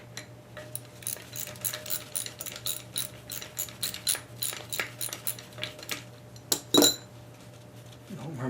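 A socket wrench ratchets a bolt off a seized Briggs & Stratton lever engine, giving rapid, evenly spaced metallic clicks up close, with a few louder clanks of the tool near the end.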